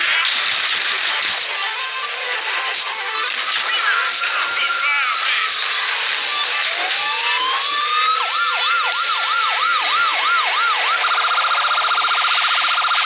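A police car siren in a gangster video game wails steadily for several seconds, then switches to a fast yelp pattern, loud and continuous with no talking over it.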